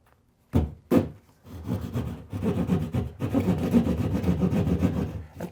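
A hand jab saw cuts through drywall with a rough, rhythmic rasping of back-and-forth strokes, starting with two quick jabs and then a steady run of close sawing.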